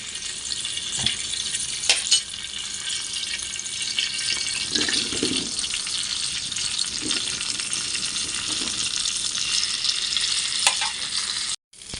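Sliced onion sizzles and crackles steadily in hot oil in a pan while prawns are being cooked, a dense continuous fry with a few scrapes of stirring, close and fairly loud throughout.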